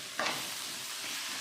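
Brinjal curry with chilli powder being stirred in a hot pan: a brief scrape, then a continuous near sizzle, with no talking.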